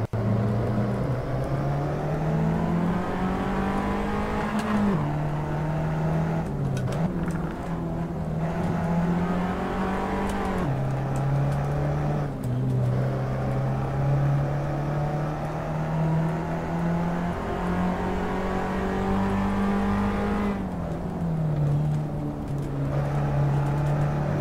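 Abarth 500 racing around the Vallelunga circuit in Assetto Corsa, its small engine droning steadily and loudly throughout, pitch rising through the gears and dipping at each shift, with no talk over it.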